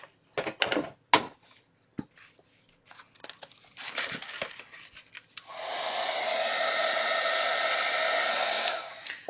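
A heat embossing tool melting embossing powder on a Kraft-Tex journal cover blows a steady, loud airy hiss in the second half, preceded by scattered crinkling and handling noises.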